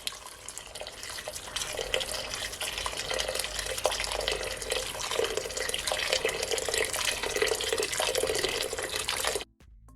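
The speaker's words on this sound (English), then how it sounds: "I'm gonna add at least 10 cups of water from my kettle." Water poured from a kettle into a pot of beef pot roast, a continuous splashing, gurgling stream lasting about nine seconds before stopping abruptly.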